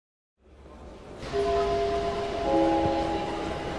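A steady rumble of train station noise swells in after a moment of silence. Faint sustained tones hum above it, like a train idling nearby.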